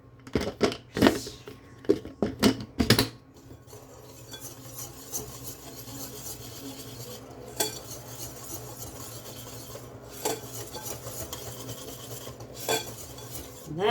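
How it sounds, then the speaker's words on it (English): Dry muffin ingredients are whisked together in a bowl: a few sharp metallic clinks at first, then a steady close scraping swish with occasional light taps, with no voices. "once I've added my dry ingredients, I'm going to whisk it all together"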